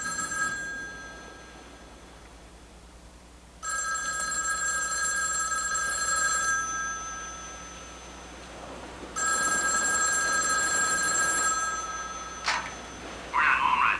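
A telephone bell rings in two long, loud bursts separated by a pause, followed by a short click and tone as an answering machine picks up.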